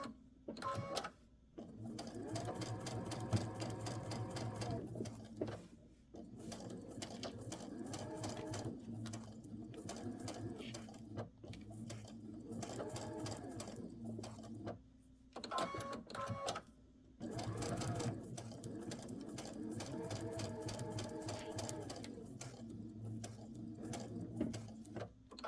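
A sewing machine with a 1/4 inch foot stitches in steady, rapid mechanical bursts, running for several seconds at a time with brief pauses between runs, close and fairly quiet, with no talking.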